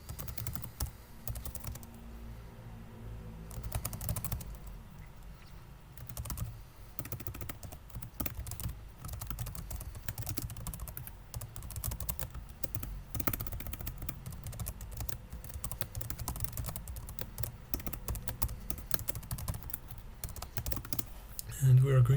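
Code is being typed on a computer keyboard in a quiet run of soft, rapid key clicks, with brief pauses between bursts and a voice talking over it at times.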